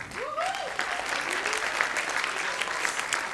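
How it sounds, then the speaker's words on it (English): An audience at a Bharatanatyam arangetram dance performance applauds with steady, dense clapping throughout, while a voice briefly speaks over it near the start. "A big applause to her, a big."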